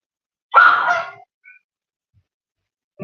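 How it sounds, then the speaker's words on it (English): A dog gives a single short, loud bark or yip up close, then a faint squeak follows and the rest is silence. "Check on the dogs, bro. I'm busy. Can't you see them making noise?"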